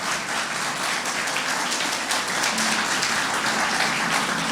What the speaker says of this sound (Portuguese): Pode aplaudir o Senhor, vai.